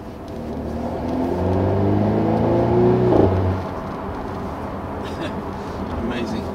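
A 2018 Mercedes E300 coupe engine revs up under acceleration, a steady rising drone from inside the cabin that swells, peaks and then drops back to a quieter cruising hum.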